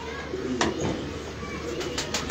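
A pigeon coos softly in a couple of short low calls over a constant background hum, with no talking.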